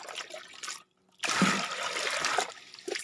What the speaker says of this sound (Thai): นำน้ำสมุนไพรที่ต้มนะคะ มาใส่ในภาชนะหรืออ่างนะคะ